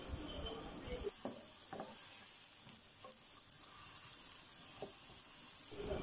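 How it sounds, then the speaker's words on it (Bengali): Spices frying in oil with a steady sizzle, broken by intermittent stirring scrapes and light clatter from a spoon in the pan, heard up close. "মশলাগুলো এভাবে নেড়ে চেড়ে তেলে একটু ভেজে নেব"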